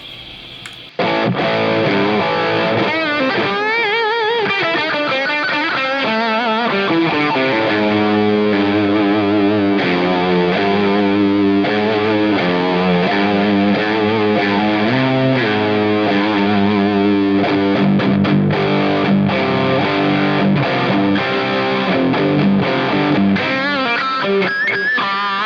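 A heavily distorted electric guitar boosted by an Orange Getaway Driver overdrive pedal plays a sustained lead line, thick and saturated, continuous and loud with no talking.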